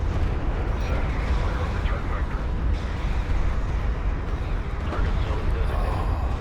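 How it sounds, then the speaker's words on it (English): A dense artillery barrage in the real-time strategy game Deserts of Kharak sounds as a continuous, heavy rumble of overlapping explosions with no pauses, and a voice talks over it throughout. "Really, really, really good artillery barrage there"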